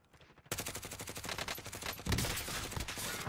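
Loud gunfire in the video game Call of Duty: Modern Warfare Warzone, a sudden burst of rapid automatic shots that continues in quick repeated bangs with a heavier blast partway through.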